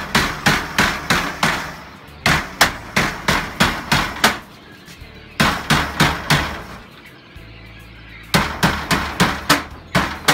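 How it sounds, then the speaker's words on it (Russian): A plastic mallet taps wire mesh to bend it while building a quail cage. The blows come in quick rhythmic bursts of about six to eight sharp knocks, with short pauses between runs, close and fairly loud. "вооружившись молотком, у нас в данном случае пластмассовым, можно деревянным, называется такой молоток киянка"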